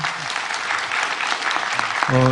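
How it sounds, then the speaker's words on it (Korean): Brief burst of dense audience clapping after a lecture at a Busan District Court culture course, ending as a voice starts to speak over it. "다시 한번 큰 박수를 좀 부탁드립니다"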